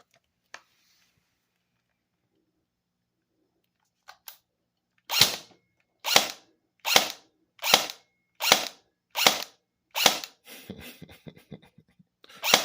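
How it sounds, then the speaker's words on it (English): A Falcon ASL airsoft electric gun fires after a mostly quiet start: about eight sharp, close shots in a steady rhythm, then a quicker burst of smaller rattling clicks at the end. "That is the Falcon ASL AEG. Let's get some trigger pulls out of this so you can hear how horrible this freaking thing"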